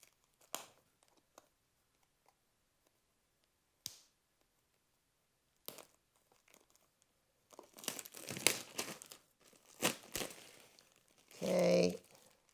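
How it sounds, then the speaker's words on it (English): Plastic wrap is peeled and crinkled off a Zhiyun Smooth Q2 gimbal box, with a few sparse crackles early on and denser crinkling and tearing bursts toward the end, close up amid near silence. "So let's take the plastic off of here."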